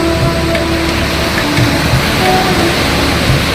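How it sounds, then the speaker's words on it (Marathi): Sea waves wash in at Tivari harbour near Varvade, a loud, constant rushing surf with no talk, close and broad throughout. "हा तिवरी बंधातील समुद्र"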